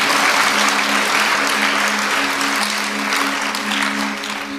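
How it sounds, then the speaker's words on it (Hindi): A crowd gathered for a Shrimad Bhagavat Katha religious discourse claps loudly and continuously, with a faint steady hum beneath the applause as it tapers slightly toward the end. "ताली थोड़ा जोर से बजा लेते तो और अच्छा लगता है।"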